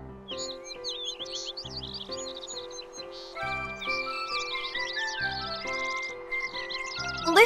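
In Kingdom Hearts III, cartoon birds chirp and tweet in quick bursts over a gentle, repeating tinkling game melody. The calls are clear and close, and they grow busier toward the end.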